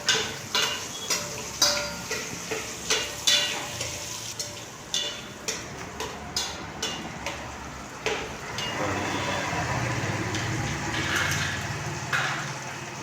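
Onions sizzle and fry in a pan for mutton curry, stirred with a spoon that scrapes and taps in a steady rhythm, loud and close, with no talking.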